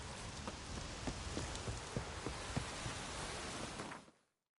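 Rain in The Witcher III video game, a faint, even hiss of steady rainfall with scattered soft drop taps, fading out abruptly at the end.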